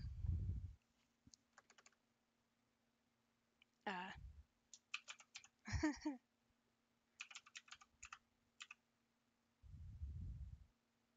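Close computer keyboard typing comes in quick bursts of clicking keys between pauses as someone logs in, with brief low talk at the start and end.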